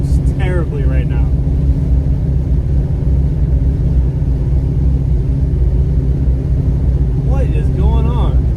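A car nicknamed Miss Mary idles with a heavy, uneven low rumble from carburetor trouble, misfiring throughout; brief whistling or squealing tones rise over the engine near the start and end.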